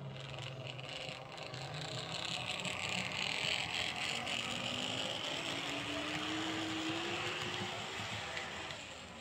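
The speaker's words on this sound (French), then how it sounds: "On entend légèrement la mécanique, mais bon, moi ça me va, c'est super. Voilà, je vous la fais démarrer." Hornby Jouef Z74503 Métrolor model train motor starting and running, a quiet steady mechanical whir with a faint rising tone, heard close and alone.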